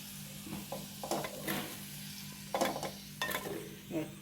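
Garlic sautéing in a pan while preparing coconut powder, with bursts of sizzling and scraping stirring strokes coming in irregular waves over a steady low hum.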